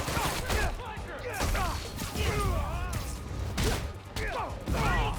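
Gunfire in Marvel's Spider-Man: Miles Morales comes as repeated bursts of shots mixed with crashes and impacts, loud and continuous, with combat voices shouting over the fight.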